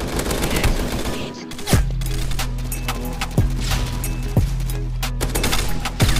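Gunshots in the blocky shooter Pixel Strike 3D: loud sharp reports at irregular intervals over continuous battle noise and a steady low drone, with no talking.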